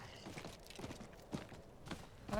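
Hooves of a horse in the video game Diablo 4 clip-clop at a slow walking pace, soft and somewhat distant, with a brief higher chime near the end.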